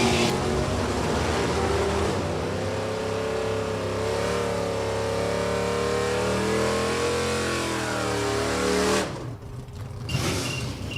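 Drag racing cars launch and run at New England Dragway, among them a 1967 Camaro in F-Stock automatic, their engines revving with rising and falling harmonic tones for several seconds before the sound cuts off sharply near the end.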